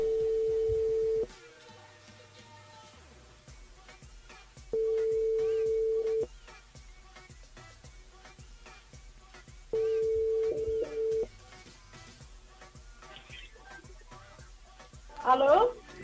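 A telephone ringing tone sounds as a radio host calls a listener, three steady long tone bursts separated by pauses, with a quiet rhythmic ticking and a brief voice-like burst near the end.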